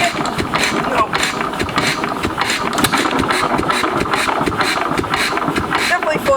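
A flooded small engine is cranked repeatedly and fails to catch, giving a steady churning rumble with a rough pulsing rhythm under heavy wind buffeting on the microphone, with voices faintly in the background.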